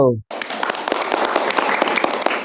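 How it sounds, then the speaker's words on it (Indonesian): A classroom gives group 1 a burst of applause. A brief voice comes first, then after a short gap dense clapping from many hands holds steady and loud to the end. "Beri tepuk tangan untuk kelompok 1."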